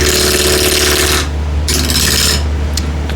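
Wood lathe spinning a bowl at 1100 RPM while a 16 mm ball gouge cuts it, a loud steady motor hum with a grinding, scraping cut that drops away briefly and then resumes, no voices.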